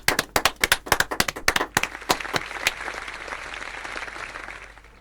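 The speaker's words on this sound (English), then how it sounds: "A big applause to them." Silver medal winners at an informatics olympiad awards event receive applause that opens with sharp, distinct close hand claps, then swells into a softer, steady wash of clapping from a small audience that slowly fades.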